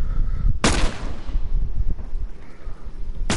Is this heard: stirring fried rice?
no